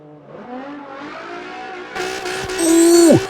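A drift car slides through a turn at the Yas Marina circuit during a World Race Series event, its engine rising and revving before a loud burst of tire squeal that peaks and drops away at the end.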